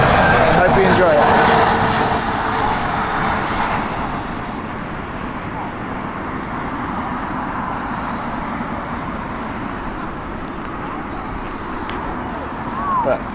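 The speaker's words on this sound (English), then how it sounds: "all action on the beautiful A380, and I think this might be an interesting one because there's a bit of a crosswind still" Airbus A380 jet landing at Heathrow in a crosswind, its engine roar loud at first and then easing into a steady distant rumble, with a voice talking over it.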